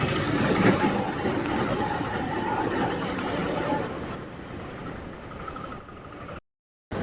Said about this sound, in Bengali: ঠিক অপর সাইডে যে রেল ব্রিজটা ওখান থেকে এই মুহূর্তে গুডস ট্রেন পাসিং হচ্ছে